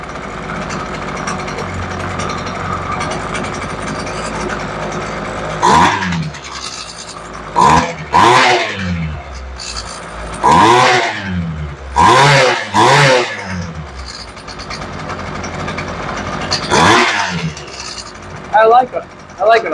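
A freshly restarted Poulan Pro engine, just after a carburetor rebuild, drones at a steady idle and then revs in a series of sharp, loud bursts, several close together, with talking heard near the start.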